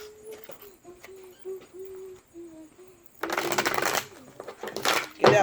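Tarot cards are shuffled in two loud, close riffling bursts, following a stretch of soft cooing-like tones.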